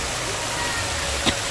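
Natural stream water flowing at the Batis Aramin resort in Lucban, Quezon, a steady close rushing wash with a faint splash near the end.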